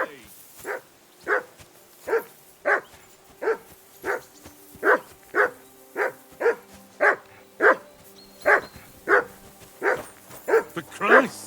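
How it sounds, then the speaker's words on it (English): A dog in the video game Kingdom Come Deliverance 2 barks at a character in a steady run of about fifteen loud, close barks at even intervals, some with a whimpering edge. "Call off that damn dog before he wolfs down the last of our mates."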